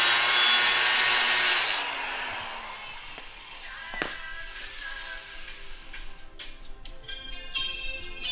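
A flap disc grinder smooths the lip edge of a wheel, giving a loud, bright abrasive roar that cuts off after about two seconds, followed by quieter clinks and rustling from the workshop.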